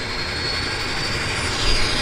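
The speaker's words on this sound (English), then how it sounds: "PT6 engine starting up." A steady, loud PT6 turboprop engine roar as it starts up at Vancouver Harbour, with a broad whine and hiss, holding even and close throughout, swelling slightly near the end.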